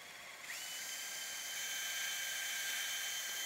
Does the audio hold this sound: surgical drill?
yes